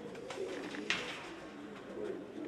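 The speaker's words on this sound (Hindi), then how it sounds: "मुख्तार वाले कबूतरों में से है" A pigeon coos softly in a loft of kept pigeons, a low murmuring call heard close with a faint chirp in the background.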